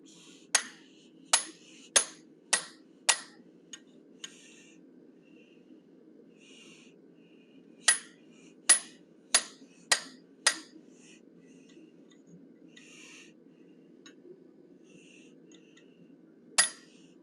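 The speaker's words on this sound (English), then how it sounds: "knock the corners off of this square stock, radius them up a bit, using the 1/8 inch fuller, diagonally across the corner" Sharp ringing hammer blows on square stock over a 1/8 inch fuller at a forge, struck in quick bursts of five or six with pauses between, close and clear against a low background hum.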